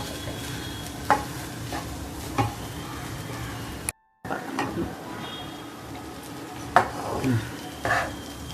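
Lemon rice ingredients being mixed in a pan with a spoon, giving soft scraping stirs and a few sharp utensil clicks against the metal over a faint steady sizzle, with a brief dropout near the middle.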